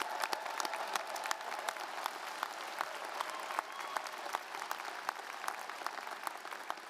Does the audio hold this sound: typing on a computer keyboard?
no